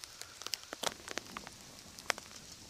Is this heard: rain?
yes